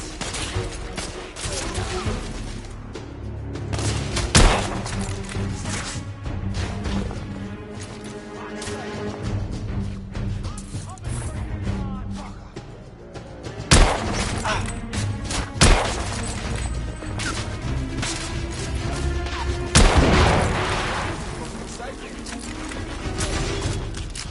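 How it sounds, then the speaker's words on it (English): Heavy gunfire in the video game The Order: 1886, loud continuous bursts with sharp cracks and crashing impacts, shouted voices mixed in throughout. "I'm under heavy fire!"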